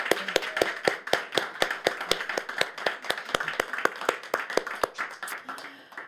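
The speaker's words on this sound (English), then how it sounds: "can everyone maybe join me in a round of applause for Dawn?" A small audience at a literary festival event claps in a sparse round of applause, the individual hand claps sharp and distinct, each one clearly separate, gradually thinning out over about six seconds with no talking.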